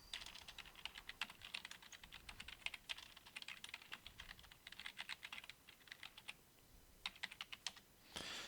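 Someone types code on a computer keyboard in steady bursts of quick, close keystrokes with short pauses between them, quiet and alone.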